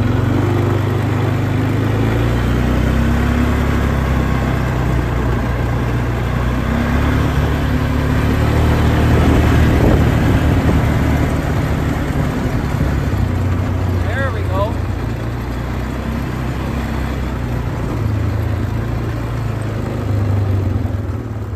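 Polaris Sportsman 500 HO four-wheeler ATV engine runs at a steady idle throughout, close and fairly loud, with a brief higher chirp midway and someone talking over it at times.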